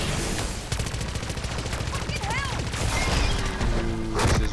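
Rapid SMG bursts ring out in MW3 Zombies, dense overlapping gunfire crackling close and loud throughout, with a couple of brief game tones and a final sharp burst near the end.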